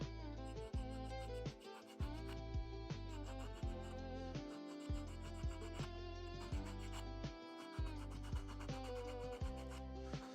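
A wooden cupcake has its top edge rounded over with steady, rhythmic rasping strokes, close and fairly even, over a constant mechanical hum.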